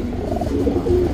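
A male Bile Bala Makshi Tirawal pigeon coos softly and close by, a low, burbling murmur that continues through the short stretch.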